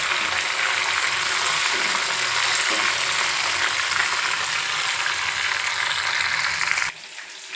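Steady, loud frying sizzle of flowers being fried in hot oil in a pan until crisp while making homemade oil, continuing dense and uninterrupted before dropping off sharply near the end.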